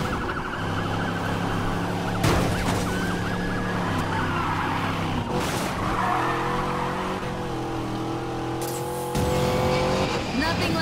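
Car engine revving and tyres skidding during a police pursuit in the racing game Need for Speed Payback, with sirens wailing throughout, loud and continuous, and a voice talking over the chase.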